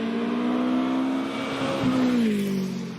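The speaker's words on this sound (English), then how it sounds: "We're into our classic cars in this BT35 Brabham ex-Formula 2 car" A Brabham BT35 ex-Formula 2 race car engine drones at high revs, dipping briefly then climbing again as it accelerates, loud and close, at a hillclimb at Prescott.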